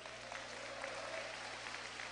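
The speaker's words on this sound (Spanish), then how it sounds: "Tribute un aplauso al Señor." A church congregation applauding during a sermon, faint steady clapping from a crowd held at a low level throughout.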